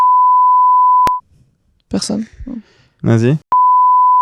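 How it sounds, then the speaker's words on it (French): A loud, pure steady censor beep fills the first second, then French voices speak briefly, and the same flat bleep returns sharply at the end. "on va la biper, je pense"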